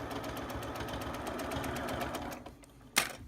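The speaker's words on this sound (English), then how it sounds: "it's a Janome sewing machine" A Janome sewing machine runs steadily while stitching a half-inch seam on a textured-edge throw, a fast even whir with rhythmic needle ticks, close and fairly loud, stopping near the end with a sharp click.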